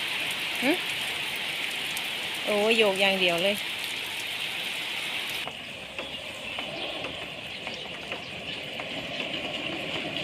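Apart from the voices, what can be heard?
rain falling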